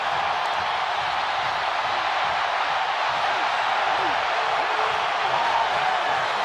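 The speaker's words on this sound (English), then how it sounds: "I just can't believe these crowds." A huge college football stadium crowd roars in a steady, dense wash of cheering and whooping at a team entrance, loud and continuous throughout with no pauses.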